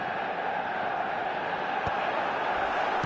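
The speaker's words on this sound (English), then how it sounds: "the crowd are reacting to that now" A football stadium crowd in a video game roars in a continuous, dense wash of massed voices, steady and loud throughout with a couple of faint thumps, no distinct commentary on top.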